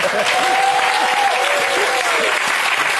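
A studio audience at a French sports television show applauds loudly and continuously, a dense, even wash of clapping with a faint tonal hum and some background murmur beneath.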